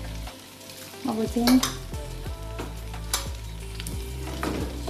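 Butter simmers down into homemade ghee in a pan, giving a continuous bubbling sizzle with spoon scrapes and stirs throughout. A voice speaks briefly at the start.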